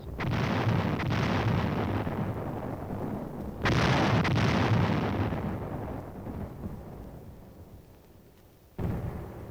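Artillery barrage in the Korean War striking enemy hill positions, heard as heavy rolling explosions, one sustained blast rumbling out, a second fresh burst decaying over several seconds, then another sudden impact, loud throughout.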